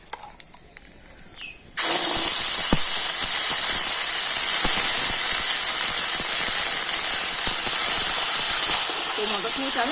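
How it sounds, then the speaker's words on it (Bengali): Green peas dropped into hot oil in a kadai after black cumin, a quiet start that bursts into a loud, sustained hissing sizzle which stays strong and even to the end. "আর এবার আমি দিয়ে দেব রেড করে রাখা মটরশুঁটি"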